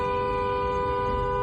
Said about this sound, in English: she's honking her horn through all of this